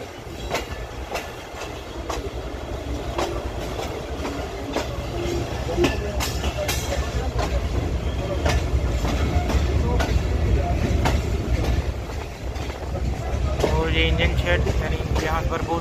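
Tezgam Express train slowly gaining momentum out of the Lahore yard, a steady rumble with rhythmic wheel clacks and occasional squeals heard from on board, someone talking over it.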